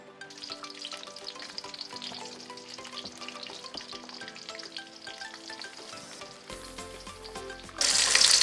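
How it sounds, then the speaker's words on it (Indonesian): Frying sizzles steadily beneath background music, with a louder burst of bright crackling sizzle near the end, as ingredients for nasi uduk toppings are fried in a pan. "kita goreng aja dulu guys"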